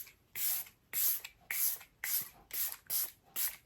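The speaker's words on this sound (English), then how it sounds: "I love the mister on that setting spray." A Charlotte Tilbury makeup setting spray mists in seven quick, evenly spaced bursts, each a fine close hiss with short pauses between and no talking.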